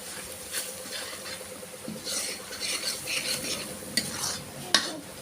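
Soybean chunks roasting with homemade spice mix, coriander powder and cumin in a pan, a steady scraping stir with a soft sizzle underneath and occasional sharper clicks of the spoon against the metal.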